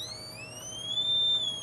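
A Trifield Natural EMF meter, a paranormal-investigation device, emits a clear, steady electronic tone that slowly glides upward in pitch, then eases slightly back down, alone and at close range.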